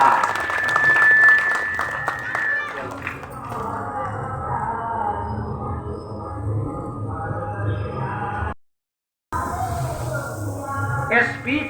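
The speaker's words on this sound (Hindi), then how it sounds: "तो इनके सम्मान में एक बार फिर से जोरदार तालियां।" Loud applause at a school-style gathering, with dense clapping and some thumps that start after a tone and speech at the opening, then continue as a sustained crowd sound, briefly cut out and resuming near the end.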